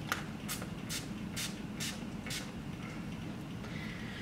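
Hair spray hisses onto hair in a series of about six short, evenly spaced bursts, close and fairly soft, over a quiet room background during a hair building fibers demonstration.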